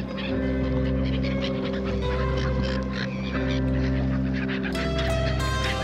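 A goose or similar large fowl honks repeatedly while being fed chips and snacks, its calls loud and close over a steady droning background hum.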